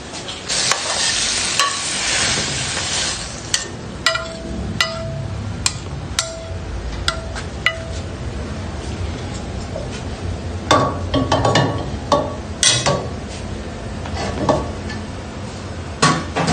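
Sea cucumber and broccoli stir-frying in a pan: steady sizzling with repeated sharp scraping and clinking of a utensil against the pan, close and loud throughout.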